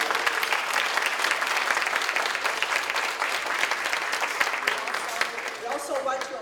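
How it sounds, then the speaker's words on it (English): An audience at a Links Le Beautillion Militaire ceremony gives a sustained round of applause, dense steady clapping from a crowd that runs the whole stretch before thinning slightly at the end. "Let's give them another round of applause."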